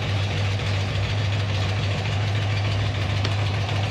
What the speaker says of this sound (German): Hoffentlich ist das Nebengeräusch dieses Motors nicht so laut.